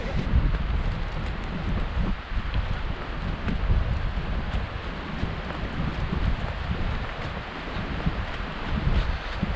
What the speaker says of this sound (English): it's always real windy.